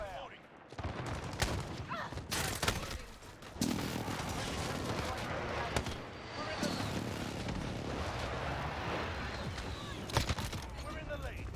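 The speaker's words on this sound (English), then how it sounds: "Be advised, friendly precision airstrike inbound." Precision airstrike explosions rumble through a Call of Duty match, a string of heavy blasts and booming impacts over a continuous roar, with voices and radio chatter mixed in.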